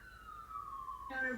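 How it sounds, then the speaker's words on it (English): A police siren wails faintly in the distance, one long falling tone followed by a rising burst near the end, low and muffled behind the room. "I think I heard the police sirens"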